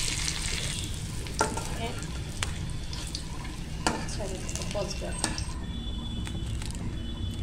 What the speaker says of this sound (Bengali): ভালো করে নেড়ে চেড়ে মরিচটাকে ভেজে নেব